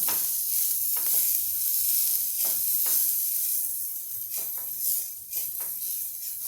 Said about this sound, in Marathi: फ्लावर आपण आता परतून घेऊया थोडासा